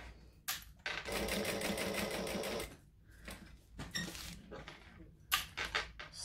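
A sewing machine stitches across a strap connector: a steady mechanical needle chatter of rapid even pulses for about two seconds, followed by shorter start-stop bursts, fairly close with light handling noise between runs.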